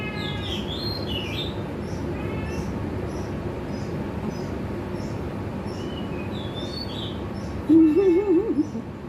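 Birds give repeated short, high chirping calls at a distance over a steady low background hum, followed by a louder, nearer squawking call toward the end.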